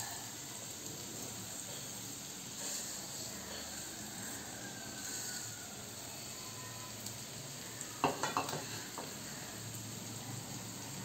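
Sev and cashews sauté in a pan for shahi sev paneer bhaji, producing a soft, continuous sizzling hiss, with a brief cluster of scraping stirs near the end.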